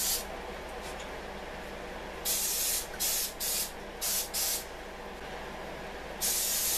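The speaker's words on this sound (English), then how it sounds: "I'm going to spray my steaming basket with coconut oil" Several short bursts of coconut oil cooking spray hiss from an aerosol can onto a steaming basket, irregularly spaced, close by, with a longer burst at the end over quiet background noise.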